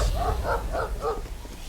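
A dog barks four times in quick succession in the video game Dead Out, sharp close yips evenly spaced over a low rumbling background.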